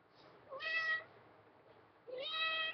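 A cat meows twice, two clear, fairly quiet calls about a second and a half apart over a faint hiss, with no talking.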